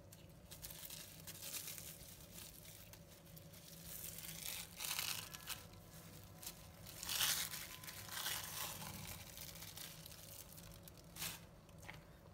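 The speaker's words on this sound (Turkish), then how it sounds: "Şimdi poşetinden çıkaracağım." A plastic bag holding tahini halva with pistachios crinkles and rustles as the halva is unwrapped, giving a close, continuous crackle that swells into several louder bursts, with no talking.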